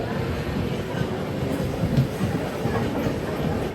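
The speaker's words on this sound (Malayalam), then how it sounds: "ട്രെയിൻ ഇപ്പോൾ ദാദർ റെയിൽവേ സ്റ്റേഷനിലേക്ക് എത്തുകയാണ്" A Jan Shatabdi Express on the Chhatrapati Sambhajinagar to Mumbai run pulls into Dadar station, giving a steady, close, rumbling roll of wheels and carriage noise with no breaks.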